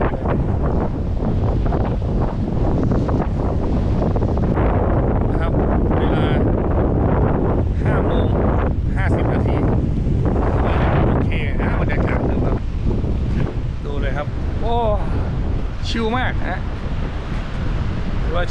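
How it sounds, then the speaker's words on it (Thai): Strong wind buffeting a microphone on a waterside bridge at evening, a loud continuous roaring rush with gusts, while someone talks over it. "นี่ดูจากลมปะทะผมเนี่ย ดูจากลมปะทะครับ"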